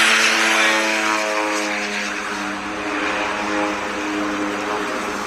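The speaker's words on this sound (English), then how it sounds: "Oh wait, plane." An airplane flies overhead on the trek toward Mount Everest Base Camp, a loud propeller drone with a steady harmonic hum that gradually shifts in pitch as it passes.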